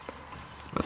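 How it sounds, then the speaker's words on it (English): Pigs out on pasture give two brief low grunts, a faint one early and a louder close oink near the end, against quiet outdoor background. "Everybody loves pigs on pasture."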